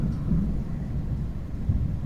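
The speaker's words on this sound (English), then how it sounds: "Maybe because of the rain disturbing me" Low, continuous rumble of thunder with steady rain outdoors, heavy and sustained throughout without a break.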